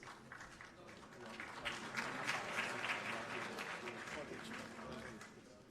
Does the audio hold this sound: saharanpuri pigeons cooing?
no